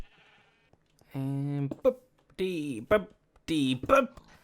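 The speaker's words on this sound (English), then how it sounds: "Stupid sheep." Three drawn-out bleats from a sheep in the Minecraft video game, the first a long wavering call and each followed by shorter stuttering bleats, loud and clear against near silence.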